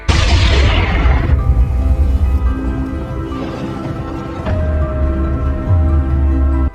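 A freeze bomb exploding in the film Badlands, a loud deep boom with a hissing burst fading into a low rumbling, cinematic drone and tones; no talking.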